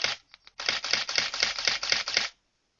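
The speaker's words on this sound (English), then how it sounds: "that's the shutter speed. The faster you go, the faster the shutter is going to release." A Nikon D3200 DSLR shutter fires: two quick single releases, then a rapid continuous burst of about eight crisp, close, evenly spaced clicks that stops abruptly.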